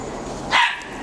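A dog wrestling with another dog in the snow lets out one sharp, loud bark close by, with no talking.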